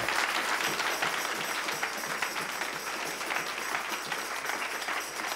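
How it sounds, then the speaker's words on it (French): A church meeting audience claps for Jesus with loud, dense, continuous applause that holds steady throughout, without any voices rising above it. "Can somebody clap for Jesus?"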